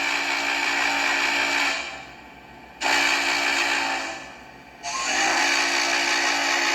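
A steam whistle from the sound system of an N&W J Class model locomotive, whose tender holds a bass speaker: three loud sustained whistle blasts with short gaps between them over a low steady engine hum.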